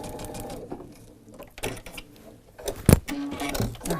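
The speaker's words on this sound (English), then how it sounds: "we're going to come in and stitch along this portion" A sewing machine stitches a patchwork quilt seam in short, uneven bursts of rapid mechanical whirring and clicking, close by, with a louder knock near the end and no talk.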